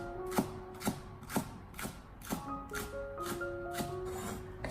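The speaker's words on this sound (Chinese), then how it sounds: "剩下来的葱叶，我们同样的将它改刀切成葱花" A kitchen knife chops scallion greens into small rings on a cutting board in a home kitchen, with a steady series of about ten crisp, close knocks at a regular pace and no voices.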